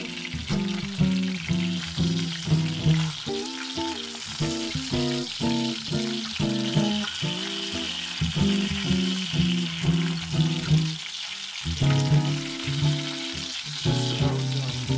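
Brown trout fillets frying in a cast iron skillet give a continuous sizzle, heard under steady music with a strong repeating beat that dominates the clip.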